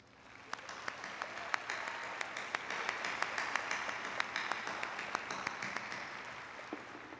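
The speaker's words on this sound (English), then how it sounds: "I think you deserve a very loud round of applause." A large graduation audience gives a sustained round of applause, building up and holding steady with a few sharper individual claps standing out, fairly distant in a big hall.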